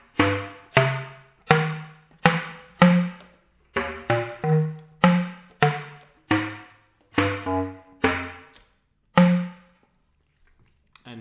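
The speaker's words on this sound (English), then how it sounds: "It's slap tongue." Bass clarinet slap tongue: about fourteen sharp, percussive pops, each a quick smack with a short, pitched low tone behind it, played alone and close in a loosely regular rhythm before falling quiet.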